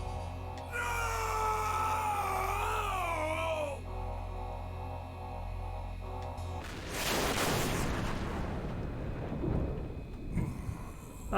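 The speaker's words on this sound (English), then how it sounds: "they exploded" A large explosion destroys a big robot in a game, a sudden loud broadband blast with rumbling decay that follows a sustained tonal musical passage.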